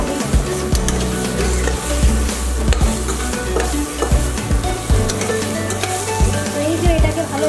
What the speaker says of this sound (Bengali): এই যে এটাকে ভালোভাবে ফ্রাই করতে হবে।